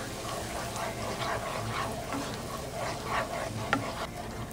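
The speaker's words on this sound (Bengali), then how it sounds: "তারপরে যে মশলাটা আমি তৈরি করলাম এই মশলার পেস্টটা দিয়ে দিচ্ছি।" Masala paste is stirred into melted butter over half flame for spicy butter garlic prawns, a steady low sizzle with soft scraping stirs and one brief knock near the end.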